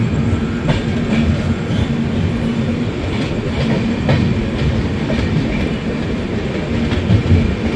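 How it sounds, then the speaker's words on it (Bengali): The 13038 Kumbh Express rolls along the rails near Jamui, a loud steady rumble with repeated clickety-clack beats from the wheels, heard from on board with no talk. "আমাদের ট্রেন জামুই থেকে"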